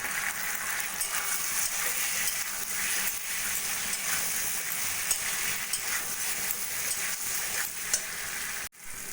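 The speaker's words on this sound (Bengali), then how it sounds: "সেই চালটা এখানে দিয়ে দেবো। দিয়ে আরও 2-3 মিনিট মতো কষিয়ে নেব।" Gobindobhog rice is sautéed in a hot pan with spices for a potol dalna, crackling and sizzling continuously under spoon stirring, close and steady, then cut off sharply near the end.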